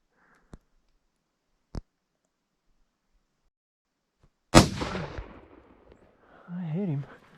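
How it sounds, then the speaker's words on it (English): Single loud crack from a hunting rifle during a solo backcountry mule deer hunt, a sharp blast with a brief rumbling tail, preceded by two faint clicks and followed by a voice speaking shortly after. "Damn, that's a loud gun."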